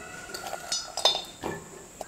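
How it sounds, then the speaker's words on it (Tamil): Small cut pieces of coconut drop into a mixer jar with a few light clinks and knocks, faint and scattered over about two seconds in a quiet kitchen. "இப்போ இதை மிக்ஸி ஜாரில் சேர்த்துக்கிறேன்."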